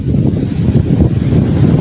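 A strong gusting wind from a sudden storm roars steadily against the microphone as a deep, close rumble that fills the whole moment.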